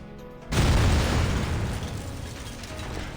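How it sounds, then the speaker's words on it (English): A video game explosion in a garage bursts in suddenly with a loud boom, then a long roaring rumble of flames that slowly fades, after a quieter stretch of background music. "An explosion shakes the room, erupting with a surge of flames."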